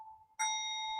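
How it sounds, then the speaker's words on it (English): A meditation bell is struck once, after a faint lingering tone, and rings out with a clear, sustained shimmering hum. "armed with the sound of this bell to remind us"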